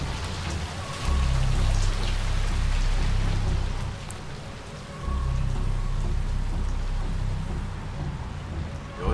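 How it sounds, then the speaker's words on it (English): Steady rainfall from a PS4 next-generation video game, a continuous patter with a low rumbling undertone that swells and eases in long waves. "it's pretty ballsy to start off a next-gen game in the rain"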